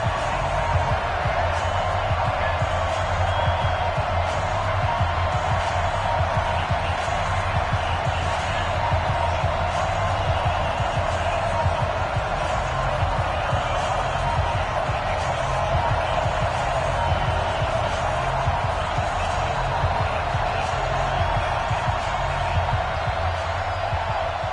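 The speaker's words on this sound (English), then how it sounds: "This crowd is ready as their guys get set to match up between the Tampa Bay Buccaneers and the Green Bay Packers." A stadium crowd roars continuously in an EA Sports football video game before a Tampa Bay Buccaneers versus Green Bay Packers match, a loud, even wash of noise that never lets up, with voices heard over it.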